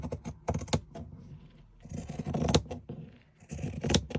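Scissors cut a sheet of paper in half for a junk journal, a close series of crisp snipping and rustling bursts in uneven clusters, quiet and alone without talk.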